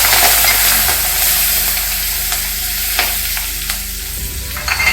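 Curry leaves hit hot oil during a tempering with asafoetida and turmeric, giving a loud, dense, steady crackling sizzle throughout, with a few sharp pops breaking through and no voices.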